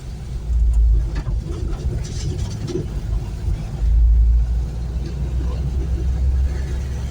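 A Renault 4L with new double rear shock absorbers drives along at speed, its engine and road rumble loud and constant from inside the cabin, with occasional heavier low thumps and a voice talking faintly over it.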